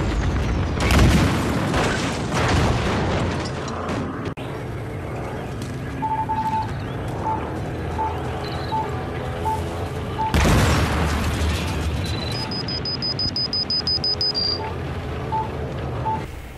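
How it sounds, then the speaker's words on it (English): Explosions in the first-person shooter game Battlefield Hardline, where a vehicle rigged with a mine detonates as it moves; loud booming blasts with rumbling tails open and recur midway, amid gunfire, game beeps and electronic tones, no talk. "as soon as it moves, it explodes"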